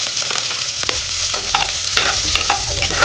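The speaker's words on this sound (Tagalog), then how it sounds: "Igigita na po natin yung bawang. Isusunod po natin yung sibuyas." Garlic and onion sauté in hot oil for fish tinola, a loud steady sizzle with scraping stirs of a utensil in the pan, close up and without talk.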